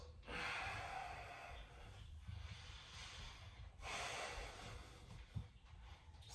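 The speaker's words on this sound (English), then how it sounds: "Breathing in and out through the nose." Slow, deliberate breaths in and out through the nose during a functional strength warm-up come as several soft, airy hissing surges, close to the microphone, with short pauses between them.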